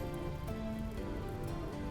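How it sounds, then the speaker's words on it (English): Rain falls steadily in a video game, a constant hiss of drops over a low drone and sustained tones, with no break. "The rain has started."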